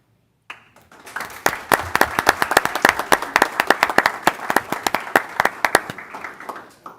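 Audience at a county board of education meeting applauding teachers, a steady burst of clapping that starts abruptly and carries on throughout, fairly close and lively with no talk over it.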